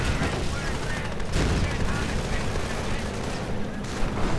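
Heavy gunfire in a WWII strategy video game battle as Panther tanks come under attack: a dense, continuous rattle of rifle and machine-gun fire with booming blasts, loud throughout.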